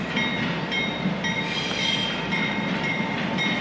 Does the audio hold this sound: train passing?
yes